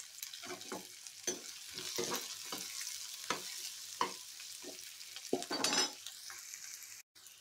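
Chopped onions frying in hot tempering oil, a quiet steady sizzle broken by repeated scraping stirs of a spatula, irregular and close, ending in a short cut to silence.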